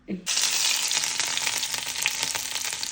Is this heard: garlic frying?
yes